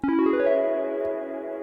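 A sustained synth note with rich harmonics rings out alone through a Strymon BlueSky v2 reverb pedal on a modulated setting, swelling slightly and holding steady with a wavering, modulated reverb tail.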